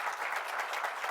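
Steady applause from an audience at a Carnegie Hero Medal ceremony, a dense wash of many hands clapping at a moderate, even level throughout.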